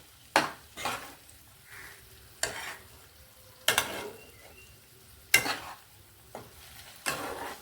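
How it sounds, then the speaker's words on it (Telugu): Taro (chamadumpa) pieces deep frying in oil, with a continuous low sizzle broken by several sharp, close clinks and scrapes of a spoon stirring in the pan, spaced a second or so apart. "ఎక్కువ కదపకుండా జాగ్రత్తగా ఎక్కువ డీప్ ఫ్రై చేసుకోవాలి"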